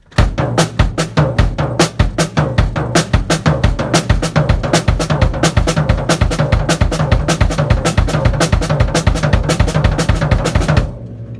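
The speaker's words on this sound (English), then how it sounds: "The revised version of that inverts it so that you start with the kick rather than a right-left kick" A drum kit plays fast, steady triplet figures, kick alternating with right and left hand strokes, sharp, close hits throughout before stopping abruptly, with no talk.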